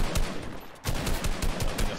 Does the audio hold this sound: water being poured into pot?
no